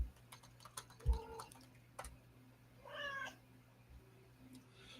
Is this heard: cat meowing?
yes